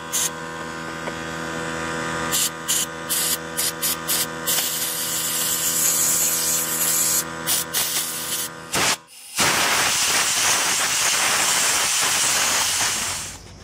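Compressed air blasts grime out of a Mercedes-Benz CV joint during a boot replacement, first as short repeated hissing bursts over a steady mechanical hum, then as one loud, continuous close rushing blast.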